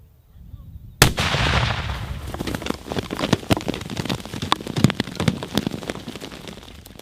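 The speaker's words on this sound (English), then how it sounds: "We stepped back and detonated the charge." A buried 750 g ANFO charge detonates in a sharp, loud blast after a second of quiet, followed by several seconds of pattering mud and debris raining down nearby.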